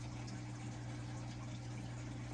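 Water is poured steadily into a container holding a snake plant, a continuous gushing fill sound with a low hum underneath, unbroken throughout.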